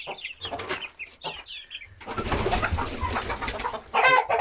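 Aseel hens and chicks make a run of short clucks and chirps, with bursts of high peeping from the chicks. The calls are close and fairly loud, with brief pauses between groups and a denser, busier stretch in the second half.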